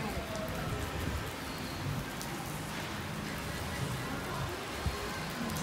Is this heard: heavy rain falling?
yes